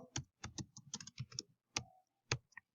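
Computer keyboard keys are typed in a short, irregular run of crisp, close clicks with brief gaps between them, entering words into a spreadsheet cell.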